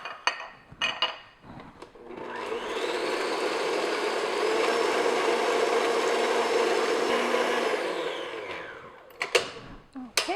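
Madeleine batter is beaten with an electric mixer, a loud, steady whirring drone that runs for several seconds, framed by a few close knocks and clatters of the bowl before and after.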